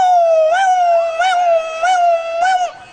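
A human voice imitates an ambulance siren, wailing in a steady rising-and-falling cycle about four times, close and loud with no other sound around it.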